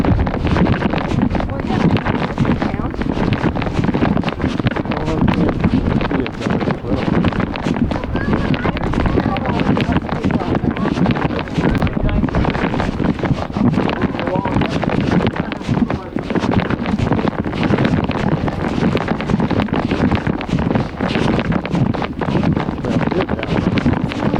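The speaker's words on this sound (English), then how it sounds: "Especially in a 29-mile-an-hour wind." Strong wind of about 29 miles per hour buffets the microphone outdoors in a loud, continuous roar with constant gusting rumble, and voices are partly buried beneath it.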